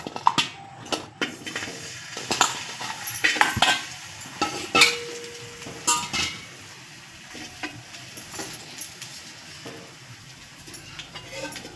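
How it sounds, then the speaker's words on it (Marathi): Dates frying in ghee in a pan, a crackling sizzle broken by repeated scraping stirs and metallic spoon clinks against the pan, close and fairly loud, with no talking. "आता मी हे खजूर तुपात तळून घेत आहे"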